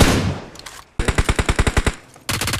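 A rapid, evenly spaced burst of about eleven loud, close automatic gunshots rings out in BGMI, after a rushing noise and before another dense volley at the end.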